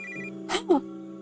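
A telephone rings in the RPG Maker horror game The Well Speaks To Me, a short electronic tone over a quiet steady game hum, with two brief bursts.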